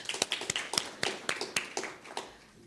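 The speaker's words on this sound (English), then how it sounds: "Another round of applause." Audience at a startup growth event clapping, sharp individual claps in a quick, uneven rhythm from a small number of hands, fairly close, tapering off at the end.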